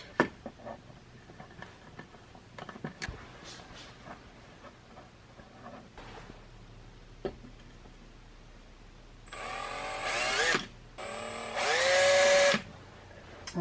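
A power drill drives #8 three-quarter-inch square-drive screws while mounting a Marinco marine-style power inlet on an RV, two loud whirring bursts near the end after scattered clicks and handling knocks.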